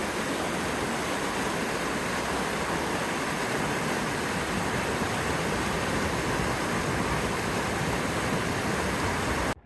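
Mountain creek in the Eastern Sierra running high with snowmelt, a loud continuous broadband rush of water, close and steady throughout, cutting off abruptly at the end.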